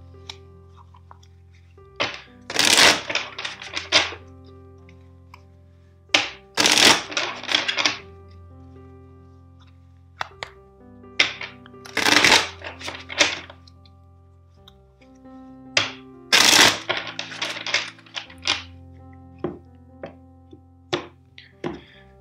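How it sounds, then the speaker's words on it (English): Four bursts of a tarot deck being shuffled, each a quick flurry of papery flutters followed by soft taps, separated by quiet pauses over a steady background tone. "let's shuffle the deck 4 times"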